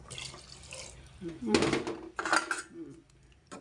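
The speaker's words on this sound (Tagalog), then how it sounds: "lagyan natin konting sabaw kasi yan pa rin ang tubig na pinagdambot ng munggo" Mung bean cooking water poured into a pot in a home kitchen, two splashy pouring bursts with metallic clinks of pot and utensils, close, with talking around them.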